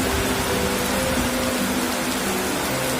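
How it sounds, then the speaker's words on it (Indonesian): Heavy rain pouring down in the late afternoon at an animal shed during extreme weather with wind, a dense, steady hiss of downpour close by and continuous, with a faint low hum beneath. "Dan kondisinya curah hujannya sangat deras sekali."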